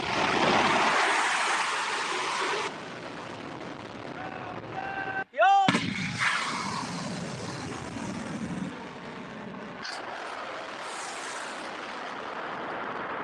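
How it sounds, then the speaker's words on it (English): An Iranian Fateh 2 hypersonic missile launches with a loud, sustained rocket roar, broken midway by a sharp dropout and a falling whine before the roar continues. "Iran launching the next generation Fateh 2 hypersonic missile."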